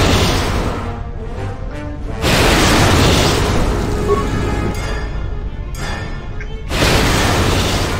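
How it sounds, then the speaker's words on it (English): A grenade blows up in Star Wars: KOTOR II, loud booming bursts that swell and hold amid a thick roar of game noise, with a few sharp cut-offs between the blasts. "Let's throw a nade."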